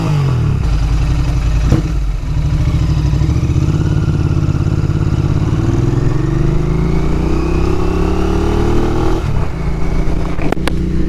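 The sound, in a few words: 2021 Royal Enfield Interceptor 650 motorcycle revving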